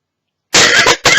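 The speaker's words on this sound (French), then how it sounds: "J'espère que je vais pas tousser toute la vidéo." A woman with a cold coughs twice, close and loud, in two sharp harsh bursts separated by a brief gap after a moment of silence.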